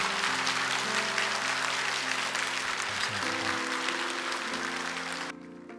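A church congregation applauding the new mayor at a Sunday service, sustained warm applause from many hands over soft background music, fading near the end.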